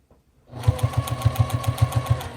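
A sewing machine stitches puppet fabric in a fast, even burst of rhythmic mechanical clatter that starts after a short quiet moment and runs steadily to the end, close and clear.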